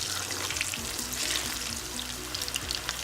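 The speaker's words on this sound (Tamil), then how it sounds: "இப்போ எண்ணெய் ஹீட் ஆகிடுச்சு, நம்ம இப்போ சிக்கனை இதில் போட்டுடலாம்." Chicken 65 pieces frying in hot oil give a steady, loud, crackling sizzle with bright popping spatters throughout, close and continuous with no voices.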